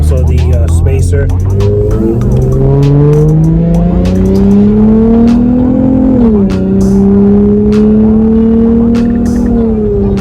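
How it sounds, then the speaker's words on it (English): A Dodge Challenger with a newly installed throttle body and spacer drives along. Its engine note climbs steadily through the gears, with a brief drop at a shift before it pulls loudly upward again. "driving the car now"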